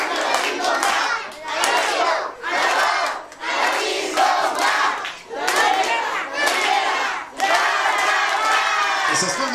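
An audience at a small live music event claps and cheers in loud bursts, repeated waves of shouting and clapping separated by brief dips, with children's voices mixed in the crowd noise.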